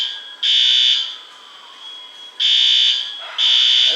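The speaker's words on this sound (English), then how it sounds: "the fire alarm is going off" A condo fire alarm blares in loud, piercing high-pitched bursts, three long tones separated by quieter gaps, close and shrill with a faint residual beep between them.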